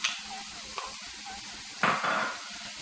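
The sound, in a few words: zucchini cooking in a pan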